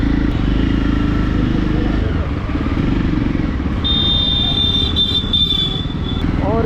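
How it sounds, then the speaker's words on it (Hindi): Motorcycle engine riding through a small tunnel in Varanasi traffic, a loud continuous low rumble with a brief high-pitched squeal partway through and a voice talking over it. "अभी टनल आएगा, मतलब छोटा सा, उसमें आपको दिखाते हैं कैसे अपनी बाइक की साउंड।"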